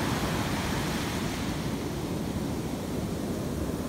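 Steady, broadband surf from ocean waves washing onto Jacksonville beach at sunrise, a continuous close roar with no voices.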